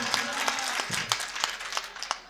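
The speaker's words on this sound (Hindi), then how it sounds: "तालियां बजाइए तब सुनवाएं।" Faint, thin applause from a poetry recital audience at a mushaira, a few scattered claps with a brief burst rising then fading out.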